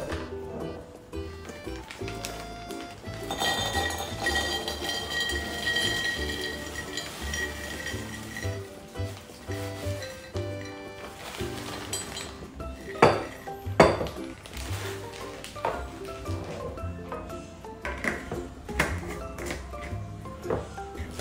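Cashew nuts poured and clinking into a glass jar while festive snack jars are being filled, a mix of rattling pieces and sharp clinks of glass and lid, with a couple of louder knocks near the end and no talk.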